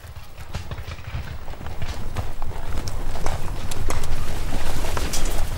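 Horses galloping with soldiers on horseback, a dense, loud drumming of hooves that builds steadily and stays close, rough clattering over a low rumble with no talking.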